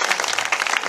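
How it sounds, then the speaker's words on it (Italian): Audience applause at a presentation for the second national festival of La Croce, a brief steady patter of many hands clapping together, moderately loud with no voices over it. "farei un applauso anche agli amici romani e a Nicola Di Matteo, coordinatore nazionale"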